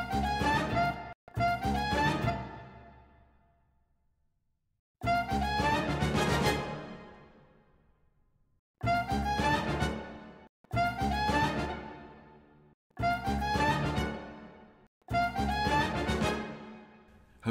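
A sampled saxophone plays several short phrases, some with an extra split note and some without. The takes come one after another with brief silences between them, bright and close, each one decaying away.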